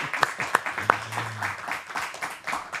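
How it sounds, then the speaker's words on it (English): A small audience at a Bronx podcast interview gives a round of applause, with scattered individual claps and a few sharp loud ones under steady murmuring chatter from the people present. "Can we give a round of applause to Mr. Alcy Leyva?"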